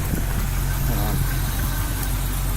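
A car engine with a large Champion radiator idles with a steady, loud, low rumble that fills the whole stretch, close up.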